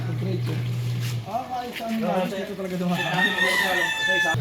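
A nearby rooster crows loudly in a long, wavering call, with other fowl clucking around it and people chatting underneath.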